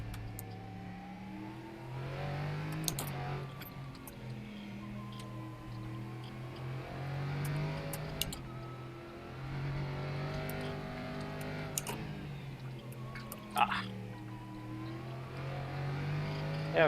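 LMP3 prototype race car engine in the rFactor 2 racing sim at Mid-Ohio, droning steadily with rising and falling revs through gear changes and corners, joined by faint clicks and a brief higher whine, with no talk.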